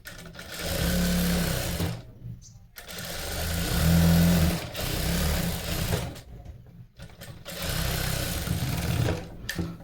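Sewing machine stitching a blouse in bursts of steady, rapid motor whirring, stopping briefly between runs, close and fairly loud with no voice over it.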